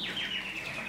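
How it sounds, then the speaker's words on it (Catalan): Birds chirping in a brief, steady run of descending high tweets within a staged nativity play, fairly close and continuous, with no talking. "I no sents els ocells?"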